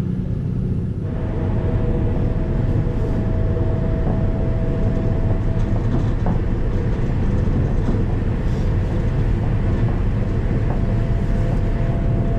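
A train travels on rails in England between Banbury and Oxford, a steady loud rumble with a faint high whine running throughout, no voices.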